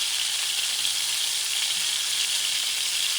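Pork tenderloin searing in a preheated pan produces a loud, constant sizzle, a bright unbroken hiss that holds steady from start to finish.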